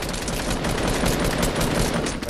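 Rapid gunfire in Fortnite, a loud, dense stream of overlapping shots that runs unbroken across the whole stretch with no talking over it.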